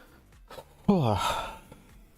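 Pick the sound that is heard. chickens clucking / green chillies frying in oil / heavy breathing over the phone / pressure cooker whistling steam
heavy breathing over the phone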